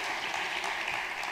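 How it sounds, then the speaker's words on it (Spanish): Audience applause at a closing and awards ceremony, a steady dense wash of many hands clapping together, fairly loud and continuous with no voices on top. "Otro aplauso para ellos"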